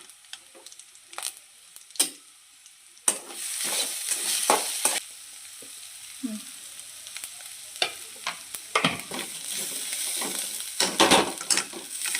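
Spices tempering in hot coconut oil for jackfruit thoran, with bursts of sizzling and crackling between quieter stretches and scattered metallic clicks and scrapes of stirring in the pan.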